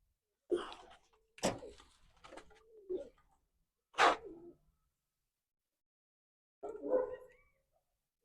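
Pigeons, blue birds among them, coo in short separate bursts with pauses between calls, fairly close and clear, with no talk over them.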